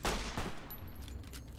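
A short, moderately loud burst of rapid gunfire from Fallout: New Vegas, a few sharp cracks in quick succession with no talk.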